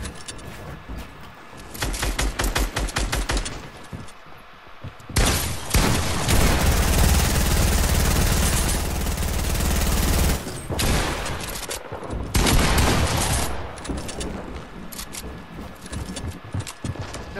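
Gunfire in the Fortnite video game: loud, rapid bursts of shots, with a long sustained volley in the middle and sparser clattering shots and in-game noise before and after.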